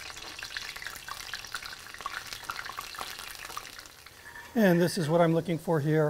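Jalapeño and habanero slices fry in oil on a PK Grill, a steady close sizzle and crackle running throughout, with someone talking over the last part.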